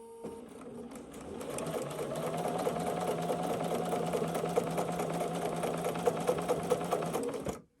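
A Bernina 770 Quilters Edition Plus sewing machine stitches steadily for several seconds, a close, even mechanical whir with rapid needle ticks, then stops abruptly.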